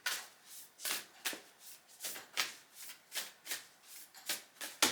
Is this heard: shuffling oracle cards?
yes